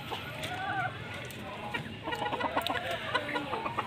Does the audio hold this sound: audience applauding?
no